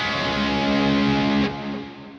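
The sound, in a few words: electric guitar with reverb and delay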